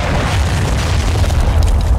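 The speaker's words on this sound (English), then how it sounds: "Throwing grenade!" A grenade explodes in Call of Duty: Modern Warfare II Warzone, a loud, close, sustained low boom rumbling for the whole moment without a break.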